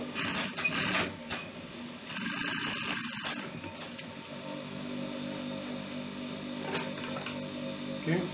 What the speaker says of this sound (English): So you go to your sewing machine, pick up 1, 2, 3.